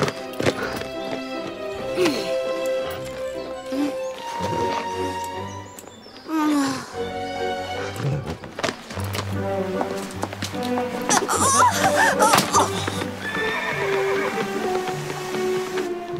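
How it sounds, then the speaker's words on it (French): Toy horse sound effects from a Playmobil princess playset, with repeated hoof clip-clops and whinnies mixed among music and someone talking in French. "Les chevaux ont faim."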